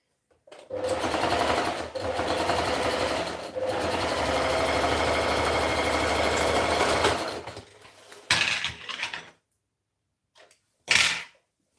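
A sewing machine stitching a pair of pants runs at a steady, fast whirring clip in long bursts, pausing briefly and then stopping, followed by a few short handling noises and one sharp final snip-like sound, close up.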